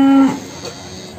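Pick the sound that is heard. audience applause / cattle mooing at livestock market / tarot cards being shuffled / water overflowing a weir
cattle mooing at livestock market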